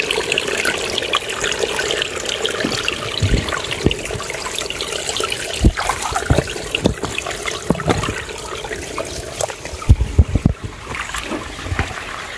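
Spring water welling up from the ground at the source of a river, a continuous outdoor gurgling and rushing wash with wind buffeting the microphone and occasional sharper splashes and knocks.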